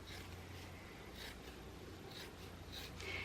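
Quiet scissors cutting through foam padding for a homemade backpack, small soft snips and rubbing scrapes recurring close by, faint and with no talk over them.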